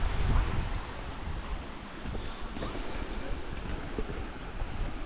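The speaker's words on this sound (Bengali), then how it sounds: "জলটা কিন্তু এই জায়গাটা দিয়েই ঢুকছে।" Floodwater rushes in through a breach under heavy water pressure, a constant broadband roar mixed with wind buffeting the microphone, fairly faint and unbroken throughout.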